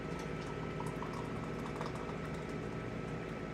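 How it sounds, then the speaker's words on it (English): Hot water pours steadily into an old, thick coffee cup, a continuous close bubbling, gurgling fill with no talk over it. "When my coffee's going, I pour hot water in it"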